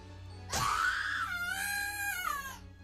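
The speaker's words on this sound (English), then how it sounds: "some of these screams are hard to listen to" A long, anguished scream from a character in the horror video game Corpse Party rises sharply and holds for over two seconds, loud and wavering, with no other voices over it.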